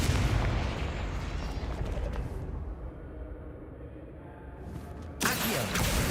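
A Confringo explosive spell cast in a video game, heard as a loud, sustained rumbling blast that slowly fades and then erupts again into a sharp burst near the end, with no one speaking.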